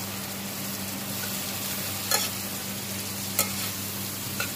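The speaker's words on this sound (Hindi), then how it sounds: "दूध डाल के हम इसको सूखने तक पकाएंगे" Pointed gourd halwa simmers with milk in a pan, giving a continuous even sizzle and bubbling hiss under a low hum, with two or three brief spoon scrapes.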